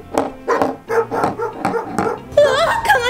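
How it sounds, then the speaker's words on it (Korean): A small, angry puppy barks in a rapid series of sharp yips and growly barks, close and loud, about half a dozen bursts in quick succession ending in a whiny, wavering cry. "화난 강아지야."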